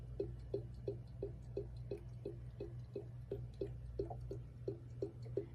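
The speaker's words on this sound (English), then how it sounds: "you can see that it's slowly filling up the dish" Water drips from a cat's gravity dispenser bottle into its dish in a steady rhythm of small plopping drops about twice a second, faint and close over a low constant hum.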